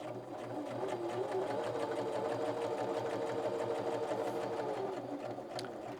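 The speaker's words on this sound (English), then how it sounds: "then press your back stitch and start sewing" A Viking 118 sewing machine stitches through fabric at a 5/8 inch seam in a continuous, even, close whirring hum with a rapid needle rhythm, steady throughout with no talk.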